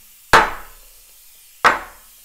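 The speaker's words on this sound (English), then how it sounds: "Brass hammer does it." Two sharp, ringing metallic strikes from a brass hammer on a Jeep TJ part, about a second apart, each decaying quickly, close and fairly loud.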